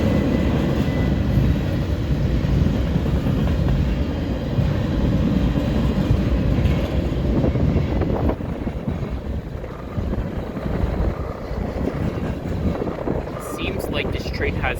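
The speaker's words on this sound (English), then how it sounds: "It looks like this train actually has a lot of cars." A long freight train passes on the Dundas Subdivision in London, Ontario, producing a loud, steady, close rumble of rolling cars that carries on for the whole stretch without a break.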